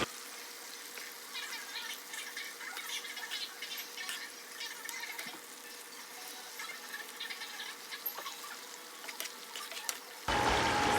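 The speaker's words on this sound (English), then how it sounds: "So I'm gonna add like a cup of chicken broth" Chicken broth pours steadily into a pot, a continuous close trickle and splash that runs for about ten seconds with no talking.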